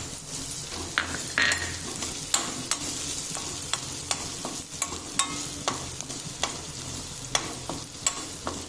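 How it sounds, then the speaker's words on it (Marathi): Garlic and chili frying in a pan, a constant close sizzle broken by frequent sharp spatula scrapes and clicks against the pan in an uneven rhythm. "लसूण छान शिजू द्यायचा आहे आपल्याला"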